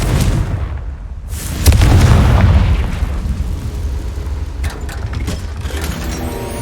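A Confringo fire spell bursting in the game Hogwarts Legacy: a deep booming explosion swells and rumbles for about a second, then fades into crackling debris and lighter bursts, loud and close.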